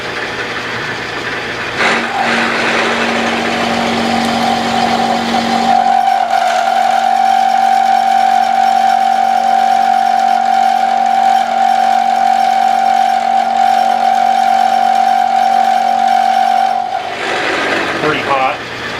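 Machine tool hand-fed into soft steel for a quick change tool post T-nut, cutting with a steady loud whining tone that holds for several seconds before stopping, a voice talking briefly at the start.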